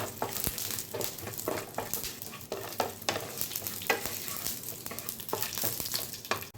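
Cashews and raisins frying in hot ghee in a pan, a close, crackling sizzle broken by repeated scraping stirs of a spoon, irregular bursts rising and falling throughout.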